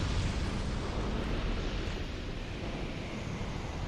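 Fire spell blast striking the Dragonrider boss in Dark Souls 2 Scholar of the First Sin, a loud sustained roaring whoosh of flame with explosive rumble, dense and steady throughout, with no voices.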